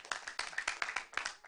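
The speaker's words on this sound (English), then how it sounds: "A hand of applause for our first batch debaters" A small audience claps for debaters after a debate, with a few people's sharp, uneven claps close by and no talk.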